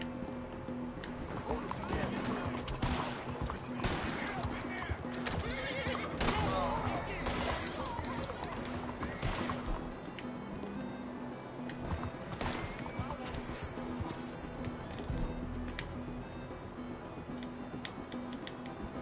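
A horse in Red Dead Redemption 2 whinnies and neighs several times between bursts of clip-clopping hooves at a gallop, fairly close, while a person talks over the game sounds.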